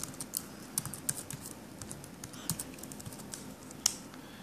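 Typing on the keyboard of a refurbished 2014 Apple MacBook Pro 13 Retina, a quiet, irregular patter of soft key clicks up close with a few sharper taps, no talking.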